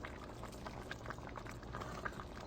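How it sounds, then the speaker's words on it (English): Sausage and peppers simmer in a pot with a soft, continuous bubbling and scattered small pops, quiet and steady with no voices. "our sausage and peppers are cooking"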